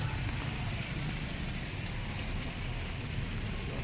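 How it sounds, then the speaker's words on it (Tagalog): Steady, heavy typhoon rain falling on surfaces in the Philippines, a dense continuous hiss with a low rumble beneath and no voices. "Ulan na to master, ulan."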